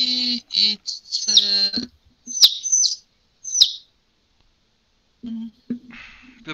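Pet parrots squawk and chirp, loud and close, with harsh calls and sharp whistles in irregular bursts and a short pause before more squawks.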